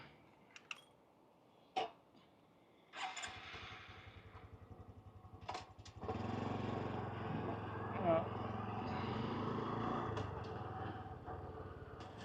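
A Honda motorcycle in Chiang Mai city: a few clicks and clunks, then the engine catches and settles into a low idle before revving louder and holding a steady drone as the rider pulls away.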